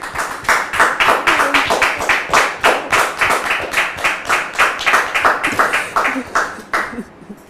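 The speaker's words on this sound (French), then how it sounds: "Public, merci de le recevoir sous vos applaudissements." A studio audience on a television talk show claps in rhythmic unison, a steady train of loud, evenly spaced beats carrying on for several seconds before tapering off at the end.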